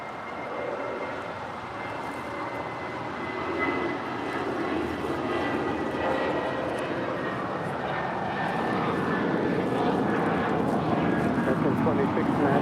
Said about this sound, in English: That is Blue Finest departing to Los Cabos on this A320 flight 1463